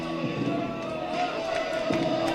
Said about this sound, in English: The crowd's getting into it.